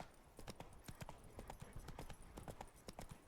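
Roach the horse galloping full speed downhill in The Witcher 3: Blood and Wine, hooves drumming in a fast, steady clip-clop rhythm, close and clear throughout.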